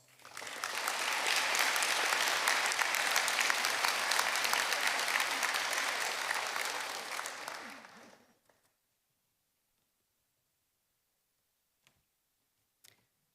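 Audience applause at a graduation ceremony as names are read: a loud, dense wash of clapping for about eight seconds that fades out, then near silence with a couple of faint ticks.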